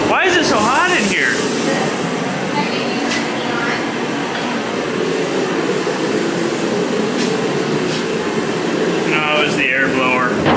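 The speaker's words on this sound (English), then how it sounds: "No, it was the air blower." An air blower runs in a workshop during sanding and epoxy primer work on a Model T hot rod, a loud steady rushing drone throughout, with short squeaky whistling bursts near the start and end.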